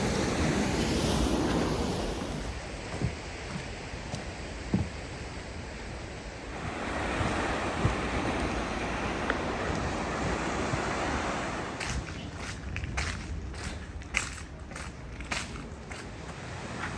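Atlantic Ocean waves and surf breaking on a rugged stretch of the Portuguese coast, a steady roaring wash with heavy wind buffeting the microphone, followed by a few faint footstep-like taps.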